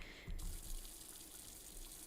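Steady running water from a tap or sink in the video game Beacon Pines, a continuous hiss at moderate volume with a brief louder splash near the start.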